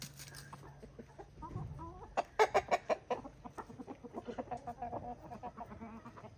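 Chickens cluck in quick, repeated bursts close by, a busy run of short clucks following a few softer calls.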